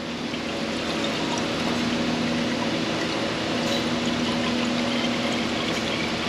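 Engine cleaner solution poured from a can into a bottle through its top, a steady continuous gushing stream lasting several seconds, fairly loud and close with no talk.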